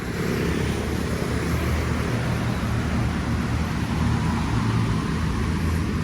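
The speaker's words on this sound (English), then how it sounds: "So obviously a lot of car traffic" Car traffic on a street in Envigado, Medellín gives a continuous, fairly loud rumble of passing vehicles, dense and even throughout, with no talking over it.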